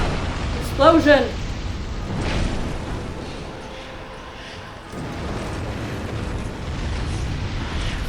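An explosion in the video game Dark Souls 2 during the Sunken Crown DLC dragon area: a short burst followed by a low rumbling tail, with a player shouting over the game sound.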